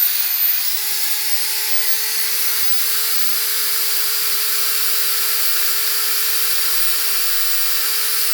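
Electric drill running with a steady, even high-pitched whine that holds for the whole stretch, close and alone with no voices.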